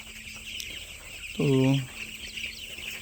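Eleven-day-old chicks in a poultry shed on a hot summer morning give one short, loud call midway through, over low background hiss, with a single brief spoken word nearby.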